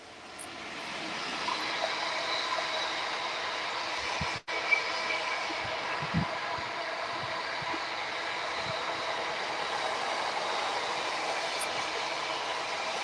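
A long train rolling past on the rails near a station: a steady, continuous rumble and rail hum that holds evenly for the whole stretch, with a few faint clicks and knocks, heard from close by outdoors.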